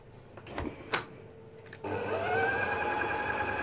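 An electric mixer whirs steadily as powdered sugar is beaten into chocolate donut batter, starting up loudly after a couple of short knocks and then running continuously at a close, even drone.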